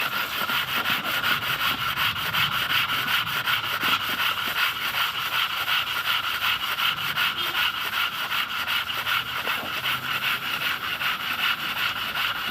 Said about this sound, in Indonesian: kita amplas di atas kaca supaya dalam posisi dia lebih level